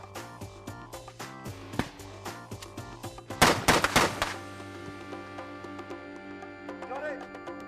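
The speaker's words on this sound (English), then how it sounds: "We're using these things here, as you can see, air mortars." Air mortars fired on a war film set, several sharp bangs and pops in quick succession with a dense burst of blasts midway, followed by ringing decay and lingering rumble.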